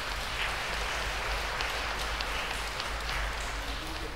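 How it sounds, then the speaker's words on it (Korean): Sustained applause from a congregation inside Bora-dong Catholic church, a continuous wash of many hands clapping at moderate volume for the whole stretch. "수고해 주신 두 분께도 큰 박수 부탁드리겠습니다"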